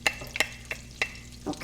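Garlic fries in a pan for linguine alle vongole, a soft sizzle punctuated by several quick, close scraping stirs in uneven rhythm.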